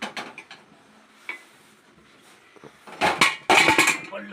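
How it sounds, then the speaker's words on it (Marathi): A pressure cooker is set down on a lit gas stove, with a few faint clicks followed by louder metallic clanks and scrapes near the end. "गॅस पेटवला त्याच्यानंतर याच्यावर कुकर ठेवतोय"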